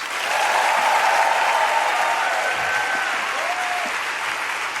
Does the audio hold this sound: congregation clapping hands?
yes